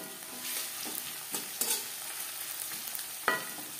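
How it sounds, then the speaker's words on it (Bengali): Chopped onion fries quietly in a pan with a soft, steady sizzle, broken by a few sharp clinks and scrapes of stirring. "দু 3 মিনিট পেঁয়াজ হালকা করে ভেজে নেওয়ার পর"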